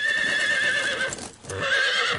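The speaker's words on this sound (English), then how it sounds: "digging his spurs into his horse to make it jump and whinny" A horse ridden with spurs whinnies in two shrill, wavering bursts separated by a brief pause, close and loud with no talking.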